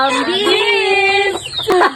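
Chickens on a rural farm, a loud close cluck followed by a drawn-out squawking call with further clucks near the end.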